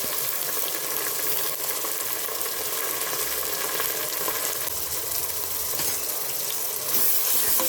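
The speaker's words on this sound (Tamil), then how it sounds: "இஞ்சி பூண்டு விழுது சேர்த்துக்கப்புறமா அதையும் நம்ம நல்லா வதக்கணும்" Ginger garlic paste with green chillies sautéing in a pan for a country chicken biryani, giving a loud, continuous close sizzle and hiss with faint stirring, no voices.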